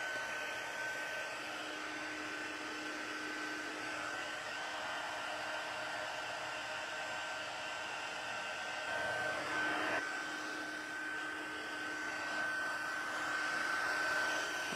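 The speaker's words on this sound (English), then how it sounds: "I have to hold the heating tool with my left hand" Heat tool blowing hot air for crafting, a continuous steady whooshing hum with a faint whine, moderately loud and unbroken, with slight shifts in tone near the end; no talking.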